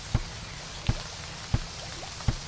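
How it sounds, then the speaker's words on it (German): Rain falls in the video game Starbound: four evenly spaced, sharp drip-like taps sound over a soft, constant background hiss. "Bei uns regnet's wieder. Es regnet."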